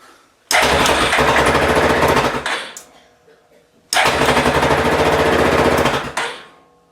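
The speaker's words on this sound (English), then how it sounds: "Now let's see what happens when I hit the starter." A Yamaha 450 engine with a fresh battery cranks over in two loud, sustained bursts of a couple of seconds each, close up and buzzing, with a short pause between.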